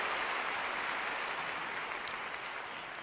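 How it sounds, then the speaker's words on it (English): An audience at a theatre awards ceremony applauds, with thick, continuous clapping from many hands filling about three seconds at an even level. "please clap it up, please clap it up."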